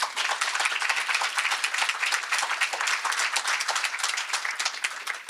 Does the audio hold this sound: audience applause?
yes